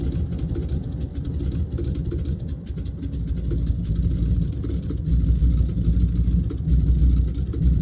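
A DHC-2 Beaver's radial engine runs in X-Plane 11 just after starting, a steady low rumbling drone that slowly builds as rpm rises.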